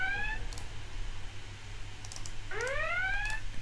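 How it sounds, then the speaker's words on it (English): Rising, siren-like synth alarm tones layered into the second half of an electronic drop in a track, sounding in two bursts at the start and end over a steady low bass bed. "So right now we've got alarm sounds."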